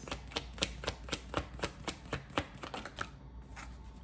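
Tarot deck being shuffled by hand, a run of crisp riffling snaps in an even rhythm, close and fairly loud, tapering off near the end.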